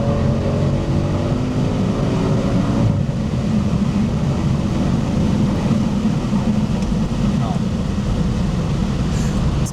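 An Audi RS6 C6 with a V10 biturbo engine accelerates in third gear on a fast road, a deep, steady engine rumble heard from inside the cabin, with a shift in tone about three seconds in.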